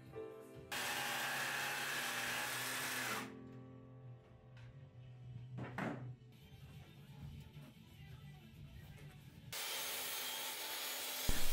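Wood is sawn for a solid-wood bed frame, with long steady rasping strokes that are loud and close. There is a quieter, scratchier stretch in the middle before another burst of heavy sawing.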